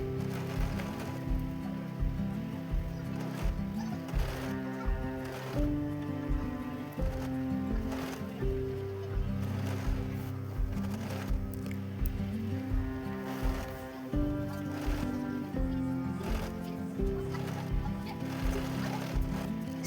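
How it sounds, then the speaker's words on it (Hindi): A sewing machine runs a double line of stitching to attach a blouse sleeve, giving a quick, steady mechanical clatter with a regular rhythm, close and fairly quiet. "यहाँ हम डबल सिलाई चलाएंगे।"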